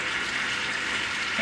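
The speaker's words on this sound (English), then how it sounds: "No water, but I'm fixing to add the water." Water poured into a pot of chicken for caldo de pollo, a steady rushing pour close by.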